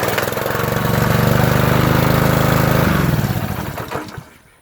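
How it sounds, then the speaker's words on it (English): A Honda GCV 160 engine on a Troy-Bilt pressure washer runs with a loud, steady drone, then winds down near the end and stops, leaving a faint tail. "So the Honda engine works."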